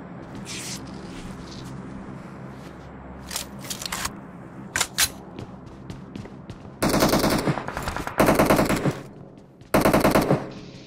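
Gunfire in the video game PUBG Mobile: scattered distant single shots at first, then loud close bursts of rapid automatic fire in several separate volleys.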